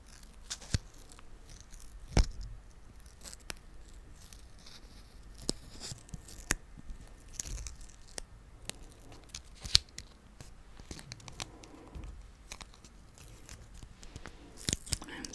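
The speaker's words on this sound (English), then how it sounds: "Now I can just fiddle with the sticker." A sticker being fiddled with and peeled, close and quiet, with soft crinkles, small tearing sounds and scattered sharp ticks over a faint background.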